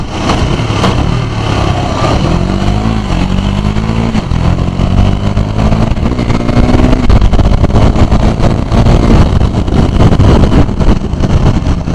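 A KTM Duke 250 motorcycle ridden hard, its engine revving and climbing through gears in a loud, continuous roar for the whole stretch, with no talk.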